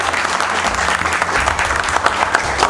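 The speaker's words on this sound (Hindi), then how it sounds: "एक बार आज की मेहनत के दीपक सर के लिए जोरदार ताली।" Loud, steady applause fills a live mobile-phone repair class as the batch claps for their instructor Deepak, dense and continuous throughout.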